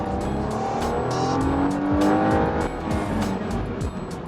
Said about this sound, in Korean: 방금 엔진이 한 6000rpm까지 갔다 왔어요